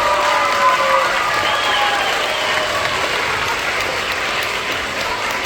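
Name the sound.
applause at an elementary school assembly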